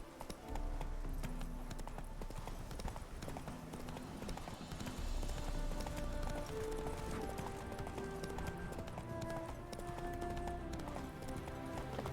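Horse hooves clip-clop at a steady running pace in the video game Witcher 3: Wild Hunt, a continuous close rhythm over a dense bed of game music and ambience with no talking.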